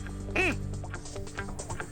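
Duck quacking once clearly and close, a single nasal call early on, followed by softer low murmurs and faint background sounds.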